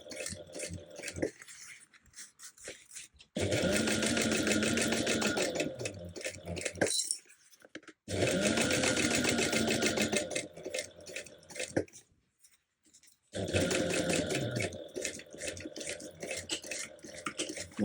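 A sewing machine top stitching through a bag lining and seam: long steady runs of rapid mechanical stitching, close and fairly loud, broken by short quiet pauses between passes.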